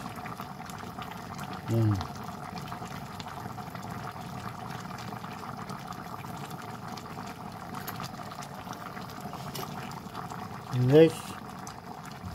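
A pot of broth with banana snack boils steadily with a constant bubbling hiss, and two brief spoken words rise above it.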